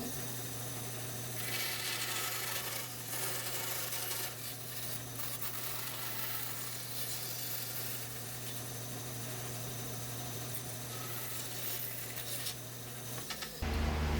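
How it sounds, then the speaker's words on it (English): A power drill bores a hole through a wooden dowel in a forging workshop, a continuous steady whir with a constant hum underneath, running evenly for over ten seconds before cutting off abruptly. "I'm going to drill my hole in this guy. Try to center as much as possible and drill a hole."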